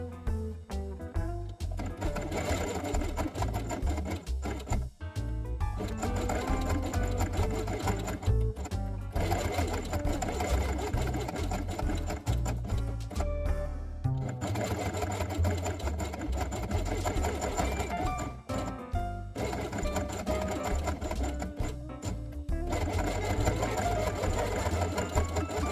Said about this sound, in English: sew along the outer edge with beige thread